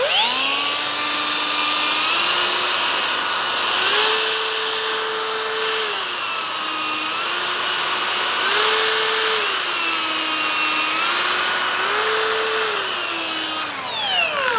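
A cordless 4-inch NRT PRO TG 99DC heavy-duty angle grinder runs alone with a smooth, high motor whine that steps up and down between its speed settings several times, then spins down at the end.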